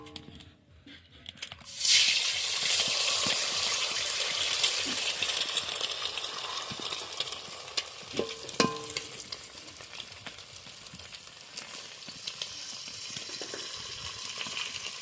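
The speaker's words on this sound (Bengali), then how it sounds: "এইবার ডিমটাকে ভেজে নেব" Egg frying in hot oil in a wok (kadai), sizzling loudly and steadily after it hits the pan at about two seconds, with occasional scrapes and clinks of a spatula.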